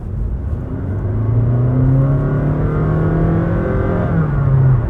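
A Honda Vezel e:HEV hybrid engine revs up in distinct stepped rises like a stepped automatic, its droning tone climbing to high revs and settling, steady and close from inside the cabin.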